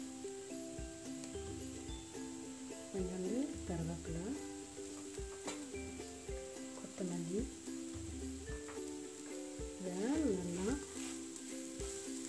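Sweet potato sautéing in a pan for masala bonda gives a steady sizzle with occasional stirring, set under prominent background music with melodic vocal lines.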